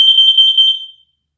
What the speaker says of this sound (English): This is only a test. Testing smoke. Testing carbon monoxide.